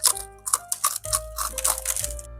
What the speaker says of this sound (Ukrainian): Ось тільки послухайте цей хрум